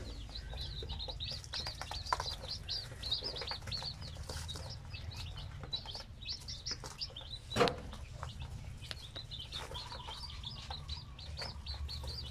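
A brood of many baby chicks from a zampen hen peep in quick, high, overlapping chirps, with a low background rumble and one brief louder flutter partway through.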